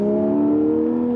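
A Porsche 718 with a 4.0L engine and Kline valved exhaust holds a loud, smooth, pure-toned rev, steady and close throughout the brief burst, with no voices.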